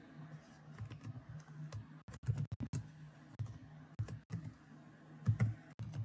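Rapid clicking of keys on a computer keyboard in irregular bursts, close and fairly quiet over a low background hum.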